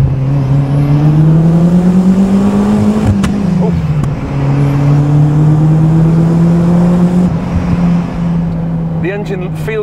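Ford Escort RS Turbo engine pulling hard at full throttle, a loud steady drone whose pitch climbs, dips briefly at a gear change, then rises again, heard close from inside the car.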